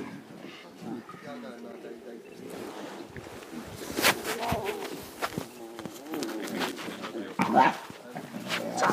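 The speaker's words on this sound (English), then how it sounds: "It's amazing how much they sound like adults when they growl." Young lion cubs growl on a morning safari, rough low snarls bursting intermittently at close range, mixed with rustling and people talking.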